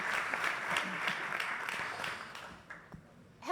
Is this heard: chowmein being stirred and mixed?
no